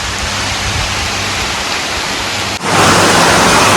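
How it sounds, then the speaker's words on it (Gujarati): Rain pours down on an open farm field in steady broadband hiss, then grows louder and denser partway through as the shower strengthens, with no voices. "વરસાદ ચાલુ થઈ ગયો પાછો"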